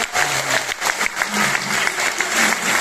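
Audience applause at a career counselling program, a dense, steady wash of many hands clapping throughout, with some voices mixed in underneath.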